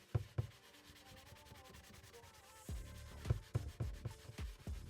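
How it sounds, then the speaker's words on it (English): Scrubbing a scratched yellow plastic Honda RM250 gas tank with a Scotch-Brite pad and degreaser: rhythmic rubbing strokes, some quiet and then a run of louder, closer scrapes toward the end, with no talking. "just clean it up with Scotch-Brite and degreaser and hopefully blend in a lot of these scratches"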